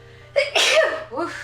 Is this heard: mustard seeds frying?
no